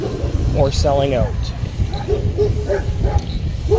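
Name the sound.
dogs barking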